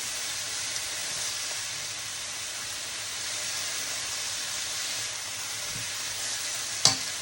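Chicken for teriyaki fries in a pan with a steady, even sizzling hiss throughout, close and fairly quiet, with a single clink near the end and no talking.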